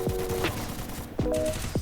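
Gunfire from the Free Fire mobile game crackles in several quick bursts of sharp shots, fairly close, with no talking.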